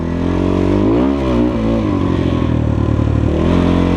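Kovi Lite 300 enduro motorcycle with a 174 engine accelerating smoothly, its mid-pitched engine note rising steadily and loudly up close, with no talk.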